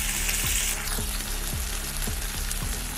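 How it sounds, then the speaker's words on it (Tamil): Tomatoes with salt sauté in a hot pan with a steady sizzle, while a spoon scrapes through them in regular strokes about twice a second. "அடுத்ததாக தக்காளி சேர்த்து கூடவே கொஞ்சம் உப்பு சேர்த்து நல்லா வதக்கி விடுங்க."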